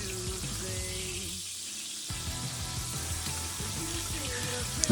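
A ribeye steak sears in a hot pan, a steady crackling sizzle running throughout beneath background music, close and moderately loud.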